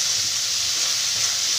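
Okra frying in a pan gives a steady, close, even sizzle throughout, with no talking.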